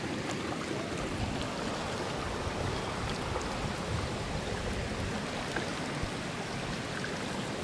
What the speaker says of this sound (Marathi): हे ऊसाच्या शेतातनं पाणी जायला लागले, एवढं पाणी आलंय। इथं लय मोठा खड्डा आहे, सगळं भरून गेलंय, वाहतं पाणी आहे वाहतं